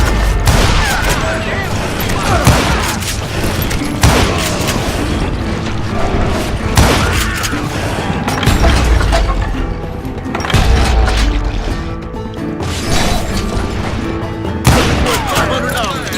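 Gunfire in the Call of Juarez: Gunslinger video game, with repeated loud bangs and booms across a busy shootout, under music and a talking voice.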